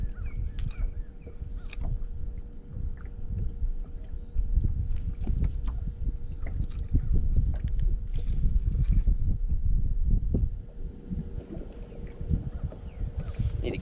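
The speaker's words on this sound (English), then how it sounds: "Need to get out of the wind." Gusting wind buffets the microphone outdoors by the water while fishing, a rough low rumble that swells and fades, with scattered small knocks and splashes in between.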